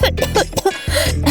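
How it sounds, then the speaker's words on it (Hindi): A few harsh, throaty coughs in quick succession, close and fairly loud, with brief pauses between bursts. "मुझे इस खांसी को ठीक करना है"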